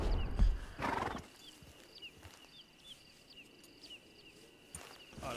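A horse in the video game Red Dead Online snorts and neighs loudly at the start, then its hooves clop along, with a faint cricket-like ambience and chirping game sounds behind.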